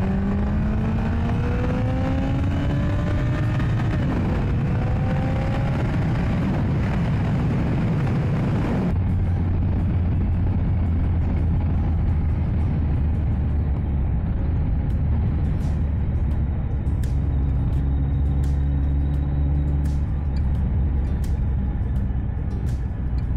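A Kawasaki ZZR 1400 motorcycle pulls hard past 7000 rpm, its engine note climbing in rising sweeps and then settling into a deep, steady roar as it cruises on, loud and close, with rushing wind throughout.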